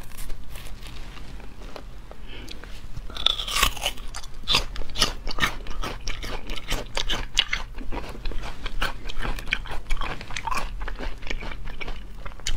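Fresh raw peanuts, just dug from the ground, are bitten and chewed up close. Crisp crunches repeat in an irregular rhythm, loud and intimate, with no talk.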